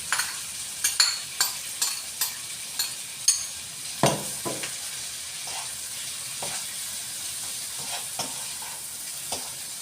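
Ground meat and garlic sizzle in a pan, with steady broadband frying hiss and repeated close scraping stirs from a spatula, one sharper clatter partway through and no voices.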